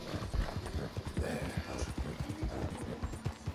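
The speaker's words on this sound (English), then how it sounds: "you could actually get a horse to run at speed across a railroad trellis like that" A horse in the Red Dead Redemption 2 video game gallops across a wooden railroad trestle, its rapid hoof clops thudding in a steady driving rhythm, loud and close.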